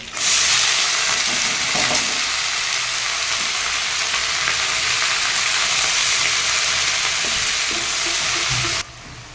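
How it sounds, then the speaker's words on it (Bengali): Loud, dense sizzling of water spinach frying in hot oil, steady hiss with occasional stirring clatter, close up, cutting off abruptly near the end. "খুব ভালো করে নাড়াচাড়া করে আমি এটাকে ভেজে নেব"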